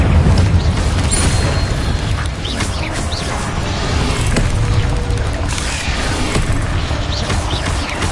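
Fiery Incendio spell blasts in a PS5 wizarding school video game, with dense rumbling booms and crackling bursts rolling continuously, loud and close.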